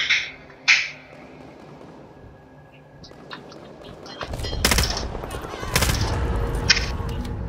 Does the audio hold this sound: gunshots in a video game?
yes